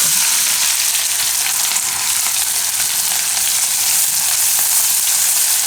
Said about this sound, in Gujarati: હવે એમાં ડુંગળી નાખીશું.